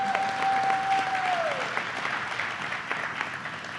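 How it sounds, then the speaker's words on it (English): Crowd applause at a Camden High School gathering, steady broadband clapping throughout, with a brief whistle-like tone fading early on; no talk over it. "Let's put it up, a big round of applause this morning."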